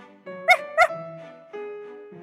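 A puppy gives two quick, sharp barks close by, followed by softer whining yips against a quiet background.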